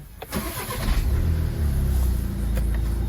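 A Skoda Octavia's engine turns over and catches, then settles into a steady idle and a low rumble as the car pulls away, close and moderately loud.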